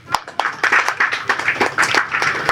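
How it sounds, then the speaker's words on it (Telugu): Audience at a film press meet clapping after a teaser screening, a thin scattered round of separate handclaps in an irregular rhythm, fairly close and moderately quiet, with no talk over it. "ఒకసారి అందరు క్లాప్స్ కొట్టాలండి."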